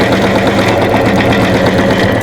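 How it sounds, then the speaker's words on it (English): An APQS longarm sewing machine runs steadily while stitching elastic face masks, a loud continuous mechanical hum with dense rapid stitching vibration and no pauses throughout. "sew a little bit, back tack,"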